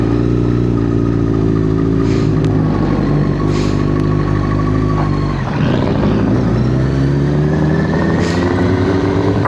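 A first-generation Yamaha R6 motorcycle accelerates hard, its engine whining loud and close as the pitch climbs, dips briefly at a shift, then climbs again.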